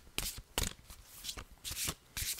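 Tarot cards being shuffled by hand, several crisp riffling bursts separated by short pauses, close and fairly loud with no talking.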